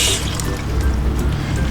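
Cabbage being washed in water for kimchi: sloshing and dripping water close by, with a tap or filling sound, loud and continuous.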